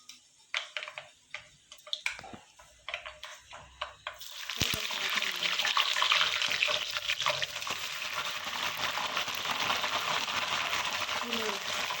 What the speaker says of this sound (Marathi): आता त्याच्यानंतर आपण हे टाकणार आहे कढीपत्ता